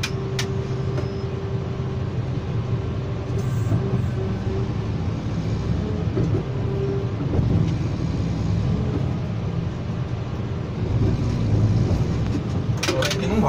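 A Caterpillar 120K motor grader's diesel engine works under strain, a steady low rumble that swells and eases, heard close, with metallic clanks now and then.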